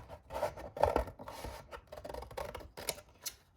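Scissors cut through thin cereal-box cardboard, producing a run of close, crisp snipping and rasping crunches with short pauses as the blades advance, clear and alone.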